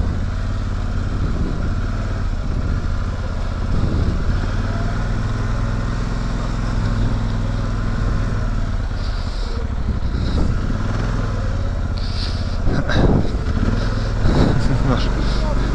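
Polaris Sportsman 1000 XP quad from 2019 rumbles steadily while riding at the Quadrézienne event, a constant close engine drone with a few sharper bursts near the end.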